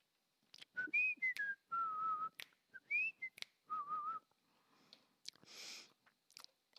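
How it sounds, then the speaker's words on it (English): A person whistles a tune alone, clear and close, in short melodic phrases separated by pauses, with soft breaths and mouth clicks between them. "Oh, who knows what I'm whistling?"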